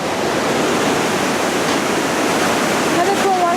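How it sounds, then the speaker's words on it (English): Steady, broadband rushing roar of a waterfall at Iguazu Falls, Argentina, heard continuously without talking, with a faint high whistle-like tone near the end. "Another cool waterfall on the other side."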